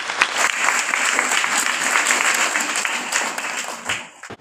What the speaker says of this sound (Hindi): हाँ ताली बजाएंगे।